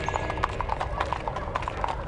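Hooves clip-clop at a steady riding pace as a horse travels in a video game, the rhythmic beats close and continuous over a low background rumble.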